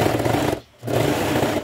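Sewing machine stitching fabric for a scissors holder, a loud close rapid mechanical chatter that stops for a brief moment and then resumes, with no talk.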